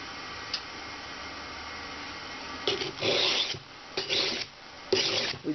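A bushcraft survival knife blade worked on a sharpening stone: after a quiet stretch, three or four close, rasping strokes scrape in quick succession, with no voices.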